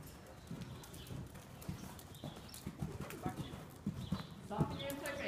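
Horse hooves clip-clop in a rhythmic canter during a riding lesson, steady footfalls close by under an instructor's talk and some background bird chirps.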